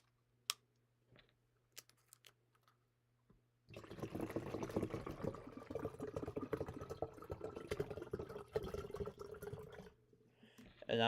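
Bottled water pours steadily into a jug for about six seconds, a continuous close splashing stream that begins after a few faint clicks and stops abruptly near the end.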